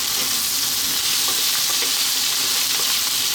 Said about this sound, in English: I'm also going to drop in our fresh chili